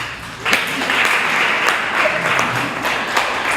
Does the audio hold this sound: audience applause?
yes